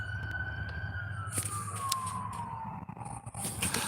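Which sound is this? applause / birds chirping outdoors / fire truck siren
fire truck siren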